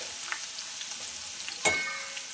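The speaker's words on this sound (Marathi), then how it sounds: "आपण घालूया आलं लसूणची पेस्ट आणि छानपैकी असं हलवून घेणार आहोत" Ginger-garlic paste stirred into cumin frying in oil for a drumstick masala, a faint steady sizzle with small crackles and one brief louder scrape of the spoon near the end.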